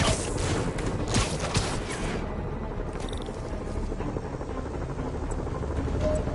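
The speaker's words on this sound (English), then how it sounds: "Bet I can use those helicopters to swing." A helicopter flying overhead in the Marvel's Spider-Man video game, a steady loud rotor drone mixed with bright whooshing wind and game action, with no speech.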